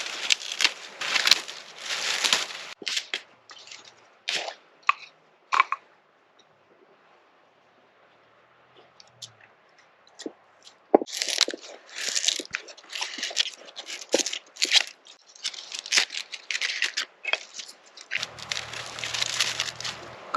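Dried flax is crunched and torn apart by hand at an outdoor campsite to use as fire starter. Repeated dry crackling bursts come close up, with a quieter pause in the middle before the brittle crunching resumes.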